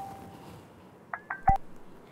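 Telephone keypad tones sound in quick succession, a few short clean beeps after a faint tone, then a sharp click, close and clear over a quiet room.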